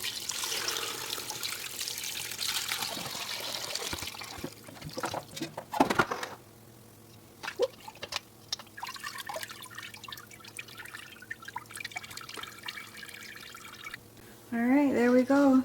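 Homemade broth is poured from a pot through a strainer lined with cheesecloth into a big bowl, giving a steady liquid splash and trickle with clinks of cookware, while a person talks over it.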